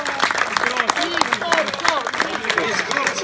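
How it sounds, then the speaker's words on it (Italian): A crowd applauding with dense, continuous clapping, mixed with scattered voices and cheerful chatter throughout. "un applauso e una stretta di mano"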